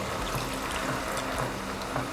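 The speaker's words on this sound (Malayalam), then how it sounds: "അപ്പം നമ്മൾ ഇതിലേക്ക് പാൽ ഒഴിക്കുകയാണ്" Cow's milk streams into a pot of jackfruit seed payasam in a home kitchen, a soft continuous liquid pour with faint trickling, close but quiet.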